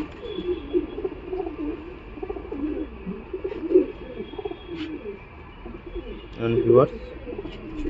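A Kashmir chapka female pigeon coos in low, repeated throaty phrases close by, with faint chirps, light rustling and background room noise, and a louder cooing burst near the end.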